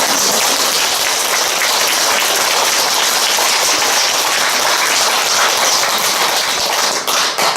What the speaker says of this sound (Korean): 아이들의 앵콜 송을 듣고 싶으면 박수를 보내십시오